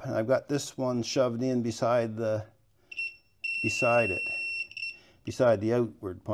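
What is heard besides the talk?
continuity tester beeping while testing car window wiring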